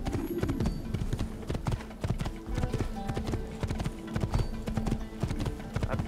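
A galloping horse in the video game Assassin's Creed: rapid, continuous hoofbeats that drum steadily for the whole stretch over a busy game soundscape.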